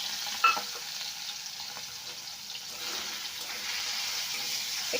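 Goat fat coated in salt and turmeric sizzles in mustard oil in a wok, a steady soft hiss with a small pop near the start and faint stirring underneath.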